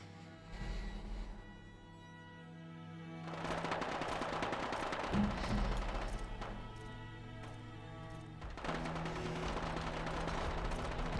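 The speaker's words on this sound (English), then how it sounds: "Investigate the gunfire" Gunfire rattles through a Fallout: London game scene in rapid automatic bursts, fairly loud, with a short pause between them and heavier volleys near the end.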